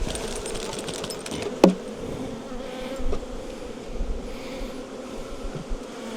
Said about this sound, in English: A few bees here.